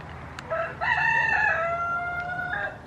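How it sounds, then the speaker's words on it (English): A single rooster crows close by in the countryside, a long rising and falling call lasting about two seconds over faint background hum. "Roosters crow."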